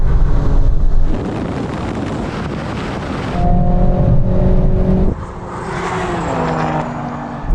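Three performance cars, a BMW M340i, a Mercedes-AMG A45 and an Alfa Romeo Stelvio Quadrifoglio, launch hard in a drag race, with loud engines roaring and shifting gears through wind buffeting on the microphone.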